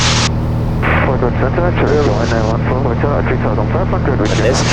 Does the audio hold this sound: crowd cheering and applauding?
no